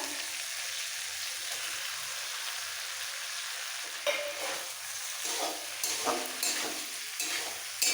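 Fried flat beans and potato stirred together with spices in a pan for a vegetarian bean curry: a soft, quiet sizzle, then from midway a series of scraping stirs against the pan.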